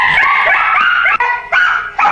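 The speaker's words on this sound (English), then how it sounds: "They're just barking." A dog barks and yips repeatedly at close range, high-pitched, strained calls that run together with brief breaks between them.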